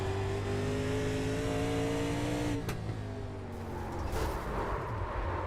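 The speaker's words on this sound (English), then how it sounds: "Heard Rothrock crack the throttle going down the straightaway" The Renaissance Nutrition 84 race car, driven by Christopher Rothrock at North Wilkesboro Speedway, roars loudly on board down the straightaway, its engine holding a steady high drone, then shifting and surging again as the throttle opens.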